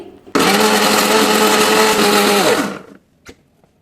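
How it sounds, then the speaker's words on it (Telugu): Mixer grinder blending a thick tomato pickle mixture in its jar, a loud, steady motor whine running close for about two and a half seconds before winding down and stopping, followed by a faint click. "ఈ మిశ్రమాన్ని కొద్దిగా మిక్సీ జార్లోకి తీసుకొని మిక్సీ చేసుకున్నానండి"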